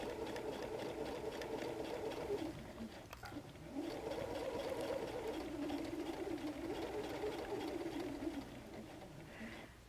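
A sewing machine stitches a bulky seam on a messenger bag, a steady close mechanical whir running nearly continuously with a brief pause partway through, fairly quiet and without talk.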